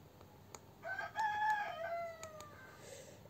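A rooster crows once, clear and fairly close, its call rising and then trailing off, with faint background noise in a quiet indoor setting.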